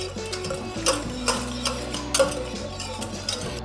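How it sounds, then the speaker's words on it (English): Cold butter is whisked into a beurre blanc reduction, a rapid metallic clicking and scraping of a whisk against a pan, steady and close with rhythmic sharper taps, no voices. "you just keep whisking the butter around"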